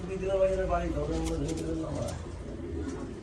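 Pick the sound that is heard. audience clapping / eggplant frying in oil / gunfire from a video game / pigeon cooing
pigeon cooing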